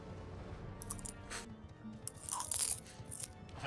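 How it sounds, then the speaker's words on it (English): Someone crunches food over an online voice chat during a gaming session, giving a quiet, irregular series of crisp bites and crunches with a few sharper snaps. "all I hear is just fucking Matt's crunching"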